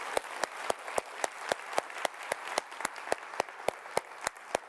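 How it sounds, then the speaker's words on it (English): Applause from an audience at a civil rights talk, crisp individual claps repeating at a steady rhythm, close and fairly quiet, most likely a single nearby clapper standing out over a small crowd. "How about another round of applause for our wonderful author?"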